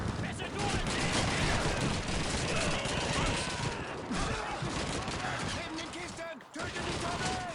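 Dense, continuous gunfire from enemies in the World War II shooter Call of Duty 2, a loud, unbroken barrage of overlapping shots and bursts with mechanical clatter, sustained for the whole stretch with only a brief dip near the end.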